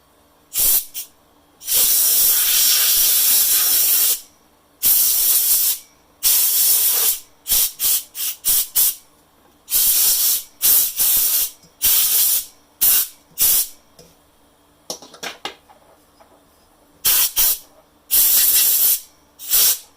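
Compressed air from a compressor running at about 80 psi blows onto the paper cone of a 1929 Atwater Kent 55C radio speaker, coming as loud, close hissing bursts of varied length separated by short silences.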